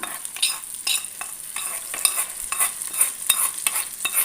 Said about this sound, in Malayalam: ഒരു രണ്ട് കറിവേപ്പില കൂടിയിട്ട് നമുക്ക് കറിയിലേക്ക് ഒഴിച്ചു കൊടുക്കാം